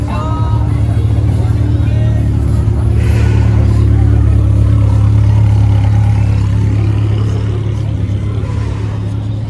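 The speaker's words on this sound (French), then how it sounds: "Je crois que c'est une moto." A loud, steady engine roar holds throughout, a deep continuous drone with slight swells, like a motorcycle revving up close.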